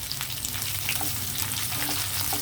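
Cumin, mustard seeds, curry leaves and dried red chillies crackle and sputter steadily in hot oil, a close, dense sizzle with no voices.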